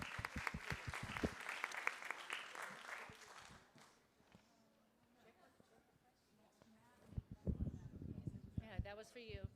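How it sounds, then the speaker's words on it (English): Applause in a state Senate chamber during a floor session, a burst of clapping at the start that fades out, followed by quiet room sounds and speech. "give her a round of applause for being such a great assistant"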